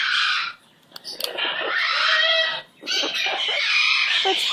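A pet bird gives a run of loud clucking, chuckle-like calls close up, in bursts separated by brief pauses.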